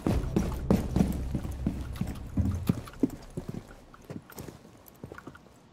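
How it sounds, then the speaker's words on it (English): Footsteps in the Rainbow Six Siege video game thud in a rapid irregular run of impacts, loud at first and then fading into sparser, quieter steps, with no talk. "I thought I heard fucking footsteps."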